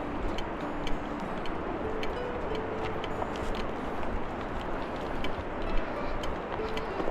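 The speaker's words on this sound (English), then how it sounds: "You can hear the waterfall in the background." Waterfall along a wooded Yosemite trail to Vernal and Nevada Falls, a steady broadband rushing roar heard from a distance, with faint ticking footsteps or small clicks scattered over it.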